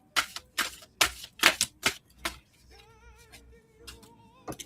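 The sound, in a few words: shuffling tarot cards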